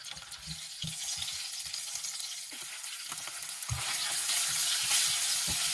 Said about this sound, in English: Fry the eggs in high heat.